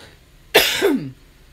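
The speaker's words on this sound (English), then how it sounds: "I'm sorry, I'm coughing." A single harsh cough bursts out close by, a short rasping hack with a throaty tail, surrounded by quiet room tone.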